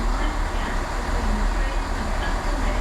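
Train at a railway station, a low steady rumble of rolling stock with broadband platform noise, moderately loud and continuous, with a faint voice underneath.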